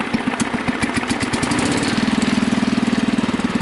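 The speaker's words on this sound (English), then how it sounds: "I'm just in idle right now. A little bit of throttle." A Husky 600 engine idles with a steady, even run of firing pulses, then picks up to a slightly faster, smoother note under a little throttle. It is close and fairly loud, with no talking.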